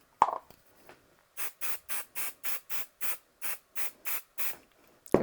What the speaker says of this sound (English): So I use some stick and spray.